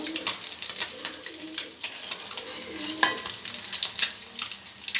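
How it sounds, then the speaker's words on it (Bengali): Eggs frying in oil in a pan, a steady broadband sizzle with crackling spatters throughout, fairly close and continuous with no talk. "আমি এবার ডিমগুলো লাল লাল করে ভেজে নিয়েছি"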